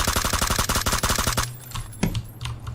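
Rapid automatic gunfire from a PUBG match, a dense rattling stream of shots for over a second, then a few scattered single cracks and distant pops.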